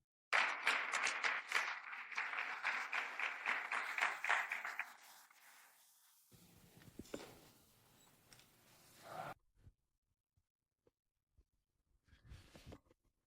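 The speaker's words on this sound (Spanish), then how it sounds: "Aplausos del público." Audience at a Christian conference session claps after a talk, a dense burst of applause lasting about five seconds, then fading into quiet rustling and a few scattered sounds.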